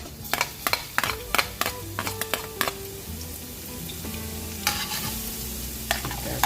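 Garlic sautés in hot cooking oil with a brisk sizzle, broken by a rapid run of sharp clacks from a utensil striking the pan, which then thins out to occasional scrapes.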